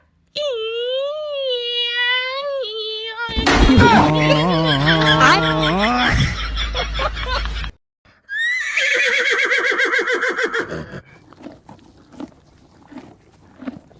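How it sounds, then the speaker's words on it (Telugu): Horse whinnies in several high, wavering calls at close range, first a thin sustained cry, then a louder harmonic burst, then a further series of shaky neighs that fade into quieter noises. "ఏ గుర్రం కావాలో తీసుకోండి"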